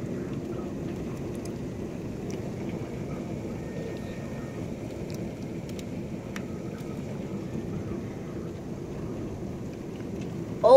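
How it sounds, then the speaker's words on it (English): Pea-size hail and rain in a windy storm make a dense, steady hiss and patter throughout, with a low rumble underneath and a few faint sharp ticks, heard from nearby without talking. "Oh my god, it's hailing. It looks like pea size."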